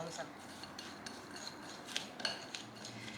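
Cinnamon, flour and melted butter are stirred together in a bowl, making soft scraping and rubbing sounds with a few light clinks of a utensil against the dish, quiet and close.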